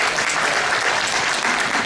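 Sustained, dense audience applause at a lecture event in Yongsan, a full hall clapping steadily and loudly without pause.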